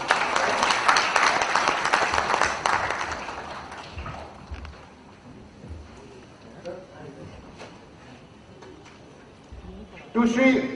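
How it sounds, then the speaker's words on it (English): An audience at a technology conference gives a round of applause, strongest at first and fading to scattered claps, with talk continuing over it and a burst of noise near the end. "Can we have a huge round of applause?"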